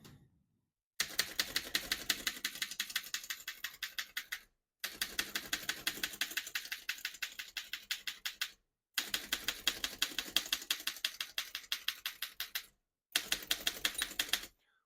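Close, steady typing on a 1929 Underwood No.3 vintage desktop typewriter, with four bursts of rapid, sharp key strikes separated by brief silent pauses.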